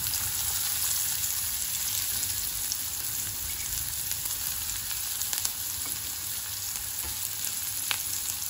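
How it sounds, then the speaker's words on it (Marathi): Chopped onion sizzles loudly in hot oil tempering with asafoetida, the start of a red amaranth vegetable dish, giving a steady close crackling hiss with faint stirring scrapes and no talk. "हा कांदा घालणार।"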